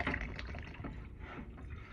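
Water sloshes and pours out of a just-removed Elkay water fountain filter housing as it is dumped, a steady, close, gurgling splash lasting throughout.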